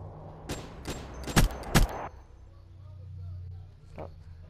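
Gunfire in a search-and-destroy shooter game: a quick string of about five sharp shots in the first two seconds, two of them louder, then a fainter single shot, with game ambience and a voice underneath.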